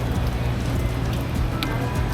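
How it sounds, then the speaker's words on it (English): Heavy pouring rain in Kaohsiung, Taiwan makes a dense, steady hiss of drops on surfaces with a low rumble of nearby traffic, continuous and fairly loud, with a few sharper splashes. "Also, it's completely pouring rain now."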